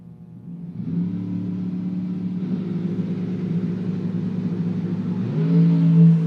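Drag race cars, a 67 Chevy Deuce and a 22 Race Tech, idle with a steady deep engine drone that swells louder near the end as revs rise, close and continuous with no talk.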